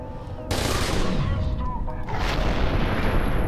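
Rocket launcher fire and explosions in FEAR 2: a sudden loud blast bursts in after half a second, then a sustained roaring wash of explosions and gunfire, with another heavy impact around two seconds, close and dense.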